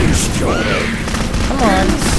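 Explosions and gunfire rattle through a chaotic battle in the shooter Clive Barker's Jericho, dense bursts and booms running almost without pause while a voice talks over the din.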